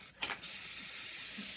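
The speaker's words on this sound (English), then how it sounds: "And I'm going to spray it all over." A spray bottle spritzes liquid onto a crochet snowflake in two quick pumps, followed by a soft, steady hiss, faint and close.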